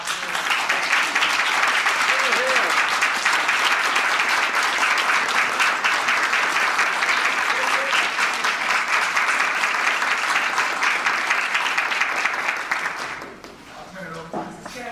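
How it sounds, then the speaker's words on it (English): A school board meeting audience in Port Arthur gives a long standing ovation, steady dense clapping that holds strong for about thirteen seconds before tapering off into quieter room sound. "please stand and let's give a big round of applause"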